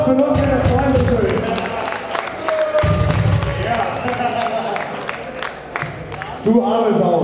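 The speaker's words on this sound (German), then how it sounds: "Ein Applaus für Nordrhein-Westfalen" Audience applause at a live metal show in Hagenow, Germany: a crowd clapping and cheering in a room, with a voice talking over it and a noisy surge near the end.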